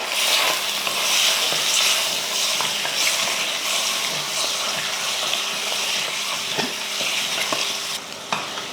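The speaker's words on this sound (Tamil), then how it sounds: "இதை நல்லா கலந்து விட்டுறலாம்" Mutton with ginger-garlic paste, tomato, turmeric and salt is stirred in a hot pan, a steady close sizzle and frying crackle running throughout with repeated scraping strokes of the spoon.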